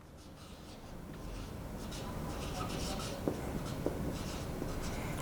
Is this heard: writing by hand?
yes